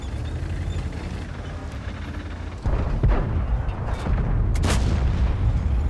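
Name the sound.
tank cannon shot in video game World of Tanks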